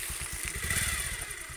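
Two Bajaj Pulsar 150cc motorcycles ridden off-road on a rough route in Nepal, engines chugging with a steady low rumble and clattering over uneven ground, loud and close with continuous wind and road noise.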